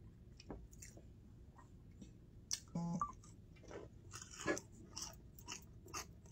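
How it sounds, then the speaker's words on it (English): Someone eats chicken and waffles with peach topping, producing close, quiet, intermittent crunching and chewing bites with pauses between them. "Hear that crunch?"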